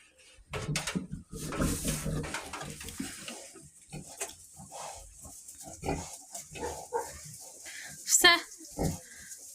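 Piglets squeal and grunt in short bursts amid farmyard clatter while having their teeth clipped, with people talking nearby and a sharper, louder squeal near the end.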